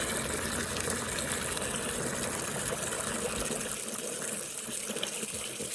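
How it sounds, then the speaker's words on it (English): Water gushes steadily from a tap or hose into a bucket on a farm, a loud, continuous rushing fill with no break or voices. "As soon as I fill this bucket up and give them some water"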